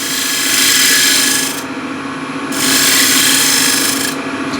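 A bowl gouge cuts wood on a lathe, giving a loud, close rasping and scraping. It swells into two long passes with a steady rough hiss between them.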